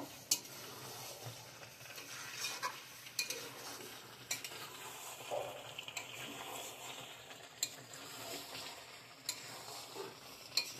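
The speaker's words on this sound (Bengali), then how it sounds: "ভাজা ক্যাপসিকামগুলো দিয়ে দিচ্ছি। একটু জল দিয়ে দিচ্ছি, আবার একটু নেড়ে চেড়ে নেব।" Fried capsicum and chicken are stirred in a pan with a splash of water, quiet sizzling broken by repeated utensil scrapes and knocks against the pan at irregular intervals, with no talking.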